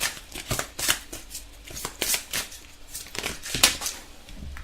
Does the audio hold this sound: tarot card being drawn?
yes